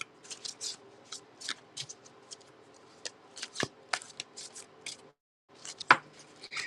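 A deck of oracle cards being shuffled: soft, rapid riffling and rubbing bursts come in uneven clusters, close and fairly quiet, with a brief pause before a final sharper snap.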